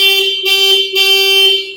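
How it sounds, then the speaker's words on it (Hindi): A 2021 Honda SP125 BS6 motorcycle horn sounds close up as a steady, bright honk that breaks twice, almost three joined blasts in under two seconds. No one speaks. "Well this horn reminds me of Honda Activa. कुछ वैसी साउंड है, बहुत ज़्यादा लाउड नहीं है"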